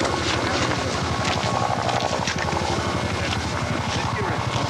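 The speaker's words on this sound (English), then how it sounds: "You hear a helicopter off in the distance there." A helicopter's rhythmic rotor thumping drones steadily in the distance, with a persistent low chop beneath faint background noise.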